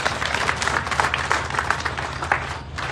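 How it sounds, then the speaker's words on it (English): An audience applauding at the official commissioning ceremony of the Sierra Leone Foreign Service Academy, steady moderate clapping from many hands throughout, close and even. "A round of applause"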